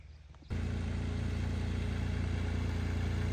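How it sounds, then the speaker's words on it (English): A tractor pulls up at a farm flower stand, its engine starting in abruptly and then droning on loud and steady with a low rumble for the rest of the clip. "There comes Mr. Hendy on the tractor."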